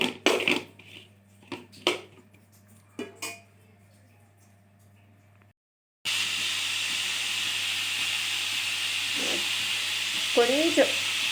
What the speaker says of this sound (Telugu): తర్వాత ఒక 5-6 టమాటాలు కోసి అవి కూడా నూనెలో వేసుకొని వేపాలి.